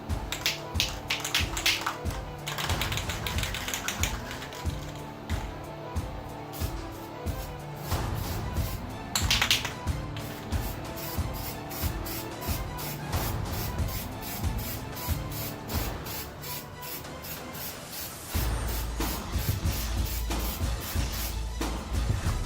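Black Valspar plastic paint hisses from a spray can onto a Han Solo blaster prop in steady, close bursts with brief pauses and light clicks.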